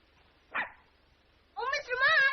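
Puppies give a short yip, then after a pause break into a quick run of high, close barks and yelps.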